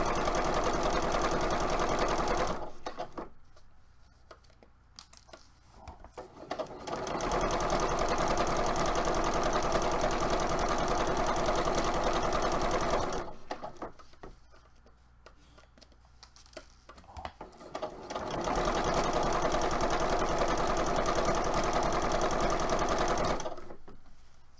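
A sewing machine stitches in three long, steady runs of fast, even whirring, each broken by a few seconds of near quiet, heard up close in a home crafting space.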